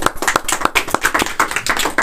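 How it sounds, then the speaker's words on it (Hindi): A Sunday church congregation claps loudly in a quick, uneven rhythm of sharp, close hand claps, with a voice faintly present underneath. "इस गवाही के लिए सभी ताली लगाएंगे जोर से"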